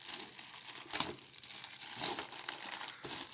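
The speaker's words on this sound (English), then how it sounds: "Oh, it's one of these weird bags without the zipper. Let's see if I can open it." A plastic toy bag with no zipper crinkles and crumples as hands work to tear it open, with a sharper rip near the start, the rustling continuing at close range with no talking.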